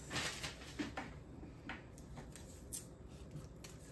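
Scissors snip through paper during a shadowbox petri dish craft, giving a few quiet, crisp cuts at irregular intervals against a soft room background.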